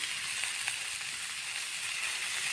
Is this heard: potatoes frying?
yes